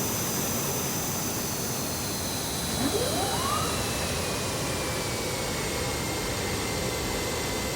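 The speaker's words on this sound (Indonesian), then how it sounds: "pesawat akan segera mendarat di runway 34R" A jet airliner approaching to land on runway 34R at Haneda Airport, Tokyo, a steady engine roar and whine, loud and continuous, with a faint rising tone partway through.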